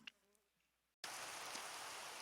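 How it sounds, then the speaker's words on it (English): Rain in the block-building video game Minecraft cuts in abruptly after a quiet second of faint game sounds, then holds as a steady, loud hiss of falling rain. "So it's raining"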